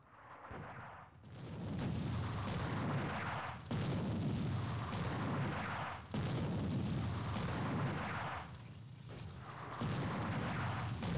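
A WWII artillery bombardment in the Attack At Dawn: North Africa game rumbles as heavy, sustained booms and explosions, loud and dense, rolling in long waves with brief dips between barrages.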